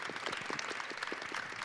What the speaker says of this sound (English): So please, an applause for Kirsty